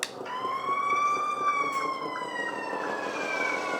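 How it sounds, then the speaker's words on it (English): A toy fire ladder truck's alarm siren wails in a continuous, rising and falling electronic tone, loud and close with no talking. "also have another sound system for the alarm sound."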